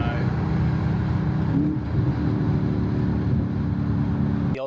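Audi S5 exhaust with aftermarket mods running steadily nearby, a loud, continuous low droning rumble with a slight pitch rise midway, cutting off abruptly at the end.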